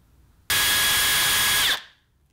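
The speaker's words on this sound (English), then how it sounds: "I'm going to go ahead and drill my hole right through now." A drill bites through the metal chassis of a small tube amplifier, one loud sustained whine lasting just over a second that starts abruptly and then winds down to quiet.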